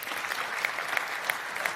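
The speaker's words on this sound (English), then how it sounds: "Clap your hands if you've ever heard the American phrase," Audience clapping in a conference talk setting, a steady wash of many hands lasting under two seconds, with a few sharper claps standing out, no talking.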